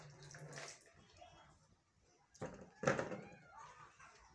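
Water splashes and pours in two short bursts, fairly close, with quiet pauses between them.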